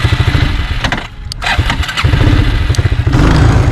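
An old 1980s engine cranks and catches, sputters and nearly dies, then revs up again as throttle is applied, settling into a loud, close, rapid idle.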